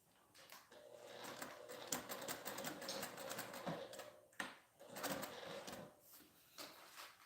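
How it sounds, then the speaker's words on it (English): A sewing machine runs a row of top stitching in a continuous faint mechanical whir with rapid ticking, pausing briefly twice before resuming. "When I go to top stitch around this box,"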